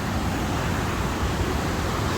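A waterfall on the Canada border pours in a steady, dense broadband rush that stays loud and unbroken throughout, with no voices.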